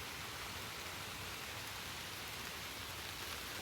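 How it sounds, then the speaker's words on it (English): Steady dense patter of raindrops dripping from trees onto a propane heater and ground outdoors, an even hiss-like wash with no pauses and no voices. "There's the raindrops up in the tree."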